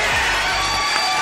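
A school board meeting audience cheering and applauding, a dense burst of crowd noise with shouts, loud and brief.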